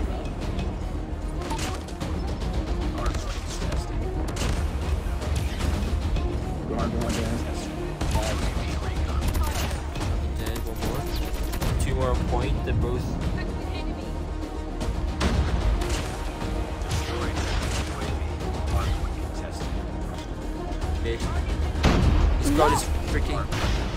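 Gunfire in Call of Duty Mobile, a steady barrage of close shots and bursts layered with game sound effects running the whole time, while players talk over it.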